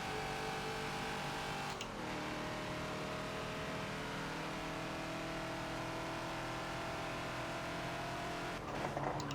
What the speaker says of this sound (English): A little wheel spin there.